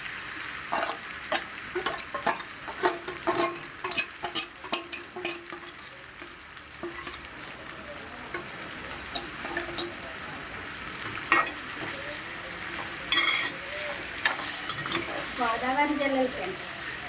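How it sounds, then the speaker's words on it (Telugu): Small Godavari river fish fry in a pan, a continuous sizzle punctuated by sharp crackles and spatters, with occasional clinks of a utensil and a steady hiss running throughout. "జల్లలు ఫ్రెండ్స్, చిన్నవి జల్లలు తీసుకున్నాను, వేసేస్తున్నాను ఫ్రెండ్స్."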